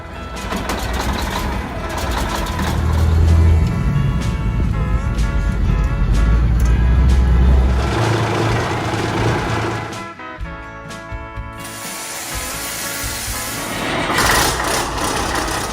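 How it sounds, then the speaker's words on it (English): A truck engine from Smokey and the Bandit starts outdoors in the snow and settles into a deep, rumbling idle. It stays loud and close, with the revs dipping and rising again near the end. "I'm going to get the Smokey and the Bandit truck started, put it out in the snow"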